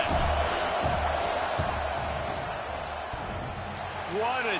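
A football stadium crowd roars steadily before a field goal kick, a dense, sustained wall of noise with murmured voices underneath and a slight swell near the end.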